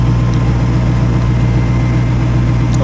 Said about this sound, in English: Got a nice sound to it. Idles right down.